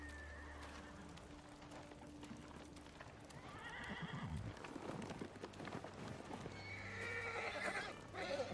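A horse in the samurai video game Ghost of Tsushima, fitted with armor, neighs and whinnies over steady clip-clop hoof steps, fairly close, with a louder whinny near the middle and another toward the end.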